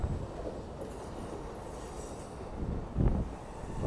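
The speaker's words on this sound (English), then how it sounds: "they got that train off to Los Angeles" An Amtrak Coast Starlight passenger train departing Emeryville station rumbles past at close range, with a low steady roar and a brief louder clatter of wheels near the end.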